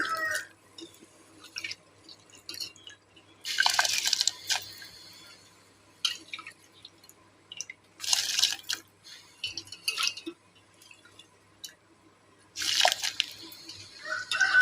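Chickpea dal and raw rice tipped into a pot of boiling water for pongal in a home kitchen: three short splashy pouring bursts spaced several seconds apart, with quiet bubbling and faint clinks between, and no talking.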